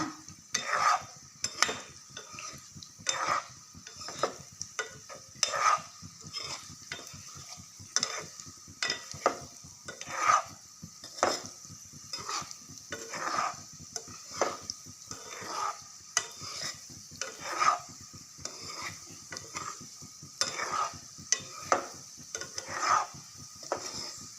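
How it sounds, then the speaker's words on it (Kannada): Coconut dumplings frying in oil while being stirred gently: a soft, continuous sizzle runs under repeated scraping and light clinks of a utensil against the pan, close by and fairly quiet. "ಈ ಥರ ಚಂದ ನಿಧಾನ ಎಣ್ಣೆ ಜಗ್ಗಿ ಕಾಯ್ಲಾರ್ದಂಗೆ ಹಾಕ್ತೀವಲ್ರಿ, ಇಷ್ಟೇ ಮೆಲ್ಲ ಕೆಂಪಾಗುತ್ತೆ"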